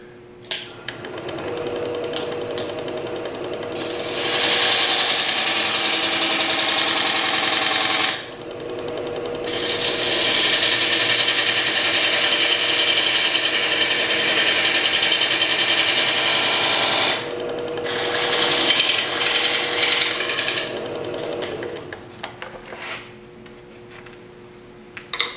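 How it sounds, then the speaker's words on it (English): Detail gouge cutting a natural-edge wood bowl on a lathe, a loud continuous rasping shave in long passes separated by brief pauses, over the steady hum of the spinning machine. "I'm going to fine-tune this with my detail gouge"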